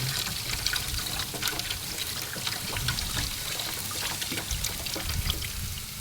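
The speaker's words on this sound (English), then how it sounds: "Okay, so I've gotten about 2 cups of water here, and I'm gonna just pour it down in there." About two cups of water poured down into a kamado grill to douse hot coals, a steady splashing trickle with faint sizzle and scattered drips, continuous and close.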